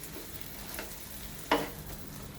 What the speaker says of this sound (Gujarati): એને પણ બરાબર હવે સંતળાવા દઈશું.